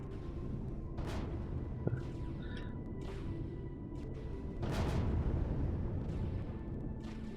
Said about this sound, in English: It's so off-putting, the explosion noise, because he's changed the explosion sound effect to the same sound effect as devices exploding.